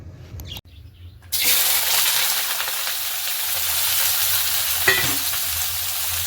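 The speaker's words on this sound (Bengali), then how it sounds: "আমি এতেই মাংসটার জন্য আলু ভেজে নেব অল্প তেলে আলু ভাজবো" Potatoes frying in a little oil for a meat curry, with a loud, steady sizzle starting after a couple of quiet bits, plus a brief clatter partway through.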